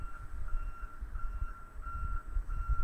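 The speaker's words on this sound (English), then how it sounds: "As I hear the noises and the sounds surrounding me, the trucks, the cars," Outside, a truck backs up, its reversing alarm beeping in a steady repeating rhythm over a deep rumbling engine and low traffic noise. No one is speaking.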